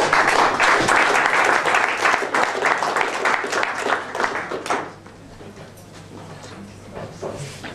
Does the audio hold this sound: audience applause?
yes